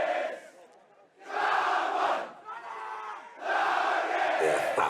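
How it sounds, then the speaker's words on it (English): A packed crowd at a schoolboy rugby match at Jeppe roars and chants in loud surging bursts, with brief quieter dips between the swells. "A jam-packed crowd, as you can see around us here at Jeppe."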